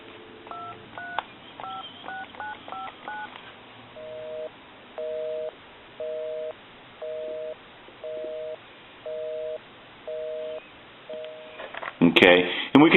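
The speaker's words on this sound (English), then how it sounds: "I'm going to dial my number and it'll be busy." Telephone tones on a hand-painted wooden duck phone: a quick run of dialed key tones, then a steady on-off busy signal repeating about eight times in even pulses, ending in a burst of handling noise.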